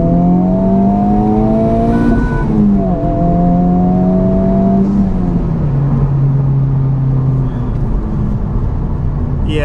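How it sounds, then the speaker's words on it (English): Honda Civic Type R engine, front-wheel drive and untuned, revs hard through a second gear pull, pitch climbing then dropping at shifts, loud, steady and close throughout with no talk over it. "I want to do a second gear pull because in my last video I did a third gear pull."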